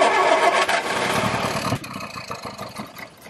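Barn-find 1969 Ford Capri engine being cranked over and sputtering, loud and rough at first, then dropping to an uneven, faltering churn with irregular pops, close by and without talk.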